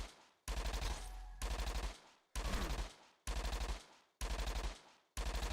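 Mortar X weapon in Entropia Universe fires six loud, evenly spaced bursts, each a fast rattling volley with a short gap of silence between them.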